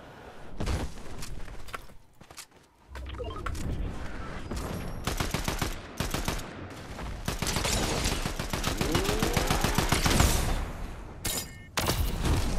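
Rapid, dense bursts of gunfire in a shooting video game, loud and nearly continuous, with short pauses between volleys and a heavy shotgun weapon in play.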